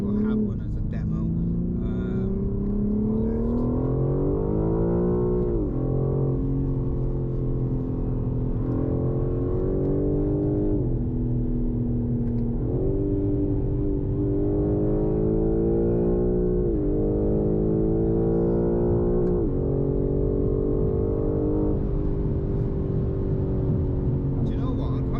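Engine of a BMW M4 G82 with the S58 engine, heard from inside the cabin, drones and rises repeatedly as the car accelerates through gears, steady and prominent, with people talking over it.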